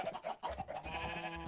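Farm animals in modded Minecraft, cows, chickens and sheep penned in an automated base, give quick overlapping bleats and clucks, fairly faint and brief.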